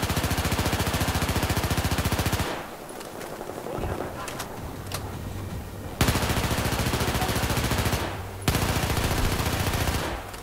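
Battlefield 4 gunfire: dense, rapid automatic bursts ring out loud and close, stopping briefly at about 2.5 seconds and again after 8, with a lone sharp crack near 6 seconds and quieter game noise filling the pauses.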